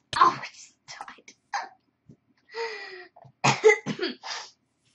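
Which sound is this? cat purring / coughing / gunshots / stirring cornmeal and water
coughing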